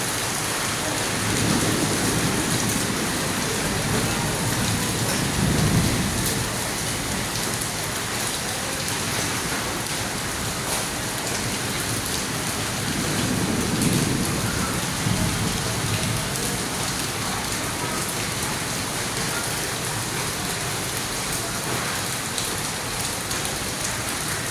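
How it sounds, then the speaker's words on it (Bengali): Steady heavy rain pours down during a hailstorm in a continuous loud hiss, with low rumbles of thunder rolling in twice. "বৃষ্টি হচ্ছে। বৃষ্টির মাধ্যমে আবহাওয়া সম্পূর্ণ ঠান্ডা হয়ে যাচ্ছে"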